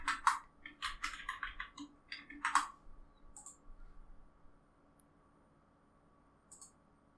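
A burst of rapid keystrokes on a computer keyboard spells out a short word, crisp clicks in quick succession, then a couple of faint isolated taps amid quiet room tone.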